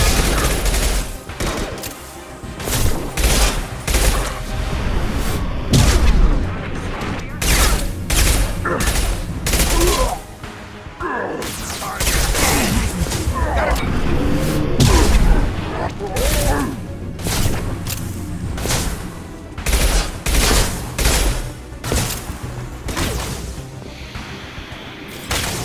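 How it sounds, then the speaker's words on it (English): Weapon fire in the Mass Effect 2 video game: a long, loud barrage of heavy shots and gunfire bursts in dense, uneven volleys, with game voices calling out between the blasts. "Firing a high-impact shot!"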